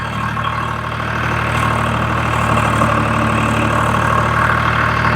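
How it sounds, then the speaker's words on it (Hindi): A Swaraj 735 tractor engine runs steadily with a five-tyne ToTa plough dug deep into a field for sugarcane, a loud, continuous diesel drone with a constant low hum and no pauses, with no voices over it. "मैंने क्लच छोड़ दिया, ट्रैक्टर चल चुका है।"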